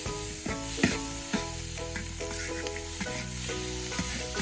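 Pumpkin, vegetables and bacon fried rice sizzling steadily in a hot pan, with sharp scrapes and clanks of a utensil stirring it at an irregular pace, close and fairly loud, with no voices.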